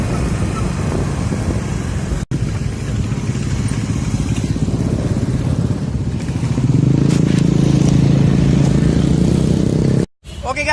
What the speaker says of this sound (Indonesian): Lagi bawa motor.